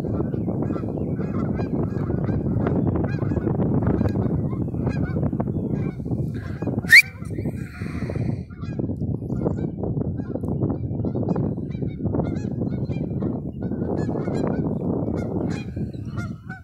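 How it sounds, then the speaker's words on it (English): A flock of geese on a golf course honks continuously in a dense, overlapping chorus as they are chased off, loud and steady throughout, with a brief sharp sound near the middle. "But Sky's going to get those geese off of there"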